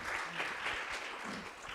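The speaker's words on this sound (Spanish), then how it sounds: "Un aplauso al equipo del PAP de Cultura y Transformación Social." Soft, distant applause from an audience at a panel discussion, a low continuous patter of clapping with faint voices mixed in.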